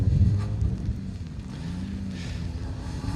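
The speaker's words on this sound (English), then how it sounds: "I'm going to shut this door before it blows off, mate, because it's pretty windy." Strong wind gusts buffet an open car door at an asphalt rally stage in East Riding, a low rumbling roar against the microphone, steady and close with no speech.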